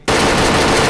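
Sustained loud automatic gunfire from the video game Arma 3 bursts in almost at once and holds as a dense, continuous roar for the whole second.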